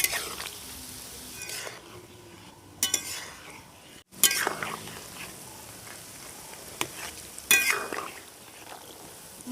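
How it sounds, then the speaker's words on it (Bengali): Madan bhaja sweets fry gently in oil over a low flame, a quiet soft sizzle with occasional clinks and stirring bursts of a utensil against the pan, close by. "এইভাবে কিন্তু হালকা আঁচেই ভাজতে হবে এইগুলো।"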